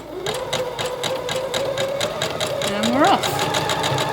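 A sewing machine runs steadily, back stitching rope while coiling a rope bowl, its rapid mechanical hum continuous and close throughout, with a person speaking briefly over it.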